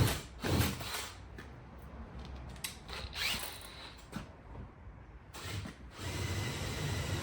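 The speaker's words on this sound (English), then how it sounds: "So I've just drilled a hole so I can fit the jigsaw blade in." A power drill bores a hole through the metal panel of a camper van to start a window cut-out, heard as short whirring bursts and scraping grinds at moderate distance, separated by brief pauses.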